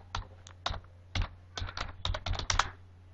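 Keys on a computer keyboard clatter in irregular bursts. There are separate taps at first, then a faster run of close, sharp clicks, with no talking.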